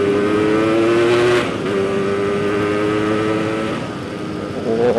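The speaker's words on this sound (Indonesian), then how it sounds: "Tapi dari suara mesinnya sih memang beda." Restored Yamaha RX King two-stroke motorcycle with a new block, piston and carburetor, its engine running loud and close with a buzzing harmonic drone that dips slightly midway and picks up again at the end.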